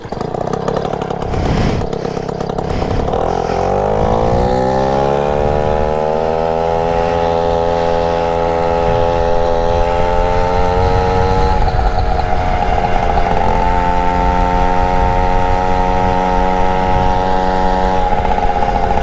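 A worn, battered MBK 51 moped engine running close and loud, a raspy buzzing two-stroke note that climbs as it revs up, then holds a high steady drone with small surges, no talking.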